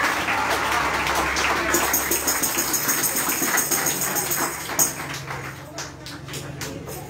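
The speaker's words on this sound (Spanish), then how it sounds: "Démosle un aplauso a María." A church congregation claps in a steady patter of many hands, moderately loud, with a brief pause before the clapping tapers off.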